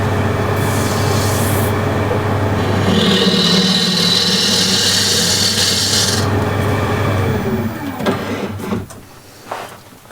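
A woodturning tool scrapes an Osage orange wood plate spinning on a lathe, giving a loud, continuous rasping hiss over a steady motor hum for about eight seconds before it cuts out, leaving a few light knocks.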